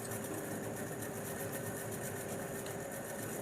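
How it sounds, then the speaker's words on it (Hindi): A sewing machine stitches the armhole of a halter-neck peplum top, giving a continuous steady mechanical whir and hum at low level, alone without talk. "शोल्डर को अटैच करके हम आर्म होल पर सिलाई लगा लेंगे।"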